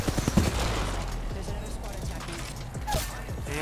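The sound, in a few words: gunfire in the video game Apex Legends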